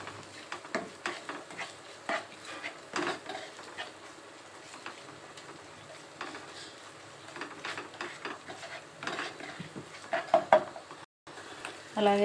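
Ginger garlic paste is stirred through green chillies and curry leaves in a pan, with soft, irregular scraping strokes and a faint sizzle, fairly quiet and close.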